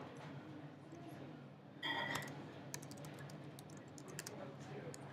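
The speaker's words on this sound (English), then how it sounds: "Then you type the client's name." Typing on a computer keyboard while entering a client's name into an insurance case form, soft scattered key clicks starting midway and continuing in irregular bursts over quiet room hum.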